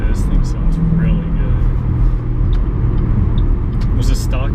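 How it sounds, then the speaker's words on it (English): A 2008 Mustang GT with aftermarket exhaust rumbles steadily and loudly while driving, a deep continuous drone heard from inside the car with a person talking over it. "Was the stock exhaust anywhere close to as loud as this?"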